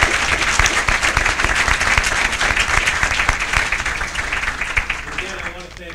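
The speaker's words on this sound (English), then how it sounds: "So how about a round of applause for that?" A crowd at a supporters' event breaks into loud, sustained applause, a dense wash of clapping from many hands that holds for several seconds and then starts to thin toward the end.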